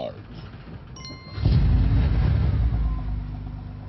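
Aircraft engine starting in a film scene, a faint whine and clicks giving way to a low rumbling roar that builds and holds steady, with a voice speaking over the start.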